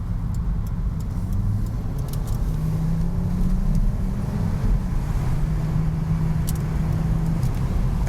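A 2006 Volvo S60 T5 with a five-cylinder engine and torque-converter automatic drives along with a steady low engine drone, mixed with road and wind noise from inside the cabin.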